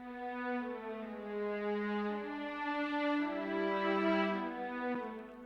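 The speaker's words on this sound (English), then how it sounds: "these are all the long legato strings" Sustained legato string notes glide smoothly into one another in a slow, connected line, with soft swells in volume and no talking, in a dance-pop production.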